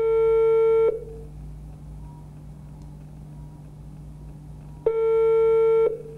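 A telephone busy signal sounds on an unanswered call to a government office: two loud, steady beeps, each about a second long, separated by a long quiet gap over a constant low hum.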